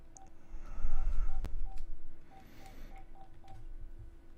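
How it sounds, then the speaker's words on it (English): Telephone keypad dialing tones, a series of short evenly spaced beeps tapped out one after another, heard fairly close over a low background hum. "I started dialing in the time, not the phone number."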